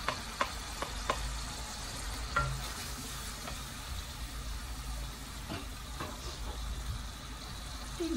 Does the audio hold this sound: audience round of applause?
no